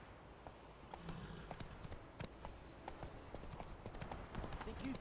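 The horse Roach trots in The Witcher 3, with a steady, rapid clip-clop of hooves running throughout under faint ambient game sound.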